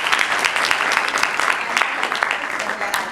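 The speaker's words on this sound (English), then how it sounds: "So I'd like to applaud her and thank her." Audience applause at a Ladies First graduation ceremony: a steady, dense wash of many hands clapping throughout, fairly loud and even, with no pauses.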